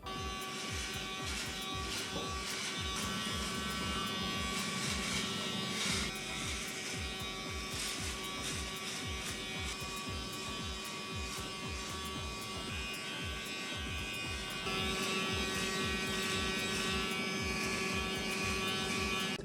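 A Laifen T1 Pro electric trimmer trims a beard with a steady close buzz for about twenty seconds, its pitch and pulsing shifting slightly as it moves through the hair, with no talking.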